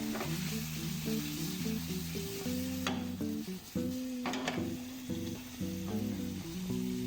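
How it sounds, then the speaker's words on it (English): Squid and chopped tomato sizzle steadily as they stir fry in a pan, with a constant close frying hiss, occasional scrapes from a spatula, and quiet background music. "you're gonna stir fry till the squid are no longer translucent"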